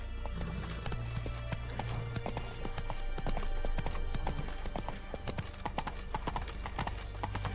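Roach, Geralt's horse in the video game The Witcher 3: Wild Hunt, gallops with steady, rapid clip-clopping hooves throughout, accompanied by a brief whinny and low game ambience, with no talking.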